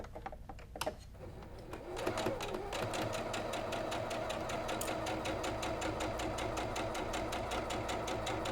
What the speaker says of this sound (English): I want to stitch on this side so I can sew right to the edge of that